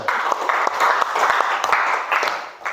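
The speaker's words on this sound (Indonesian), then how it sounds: "tepuk tangan untuk temannya" A crowd of students claps steadily for a few seconds in a classroom, a dense patter of many hands that stays at an even level throughout.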